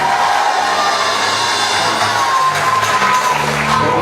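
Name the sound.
audience applause and cheering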